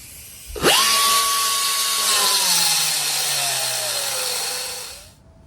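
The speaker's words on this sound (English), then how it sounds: "my compressor ain't sounding too good" A used air compressor running poorly starts abruptly with a loud, steady whine that slowly sags lower in pitch over several seconds before cutting off, heard alone in a workshop.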